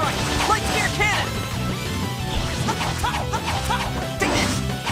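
Light Spear Cannon attack in the video game Tales of the Abyss: dense, loud battle effects with repeated smashing impacts and whooshes, layered under energetic voices shouting.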